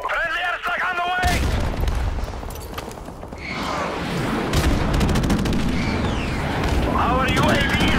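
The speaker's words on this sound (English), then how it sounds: "Friendly airstrike on the way!" Airstrike explosions in Modern Warfare Remastered, heavy booms and rolling blasts mixed with bursts of gunfire, loud and continuous under in-game radio voice callouts at the start and end.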